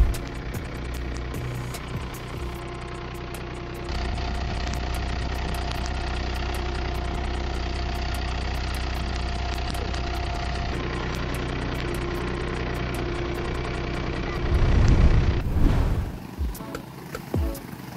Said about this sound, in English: This machine has the capacity of planting 6 to 7 acres of potatoes per day.